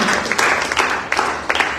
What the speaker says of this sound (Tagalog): Sa malakas na palakpak po